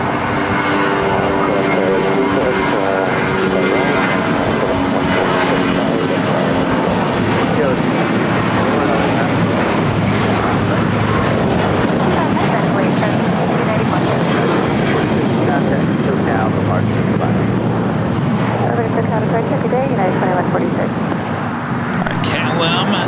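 A KLM airliner takes off at LAX, a loud broad roar of jet engines building and sustained for a long stretch, heard from nearby with people talking over it.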